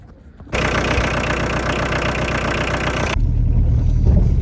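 An Opel car crawls along very slowly with its hazard lights on. Its engine starts as a steady, close mechanical drone after a moment of near quiet and runs on evenly, with no talk over it.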